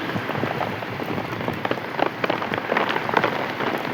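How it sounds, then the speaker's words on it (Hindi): Heavy rain pours steadily and loudly, a dense hiss of drops drumming on surfaces with scattered sharper splashes, no voices. "कितनी खतरनाक बारिश"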